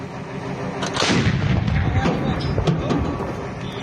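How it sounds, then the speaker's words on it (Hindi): Syrian army artillery cannons fire in heavy, booming blasts that roll on through the clip, with excited voices shouting nearby. "सीरियाई सेना जो आखिर कैसे तोप का इस्तेमाल कर रही है, बड़े हथियारों का इस्तेमाल हो रहा है।"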